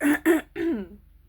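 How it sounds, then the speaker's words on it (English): Two quick throat-clearing coughs followed by a longer, hoarse cough that trails off, close and fairly loud, with no other sounds around. "I'm coughing a lot"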